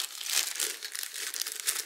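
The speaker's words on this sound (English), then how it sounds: "So I'm just going to put this plastic bag on my hand and go over it and try to get any of the extra wrinkles out here." A plastic bag worn over a hand crinkles as it smooths rice paper onto a glass jar, making a close, continuous rustling and crackling that rises and falls with the rubbing strokes.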